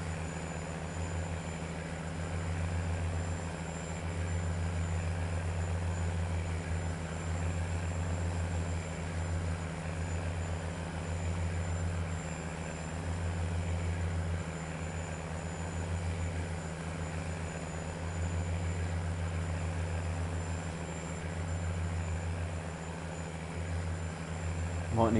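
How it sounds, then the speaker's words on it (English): A farm machine's old-school diesel engine in Farming Simulator 19 drones steadily and loudly throughout, a deep, even rumble with no pauses. "Nice old school diesel engine."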